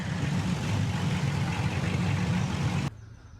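An engine fitted with a new camshaft runs steadily and loudly at a lumpy idle, a dense low rumble with no talk, until it cuts off abruptly near the end.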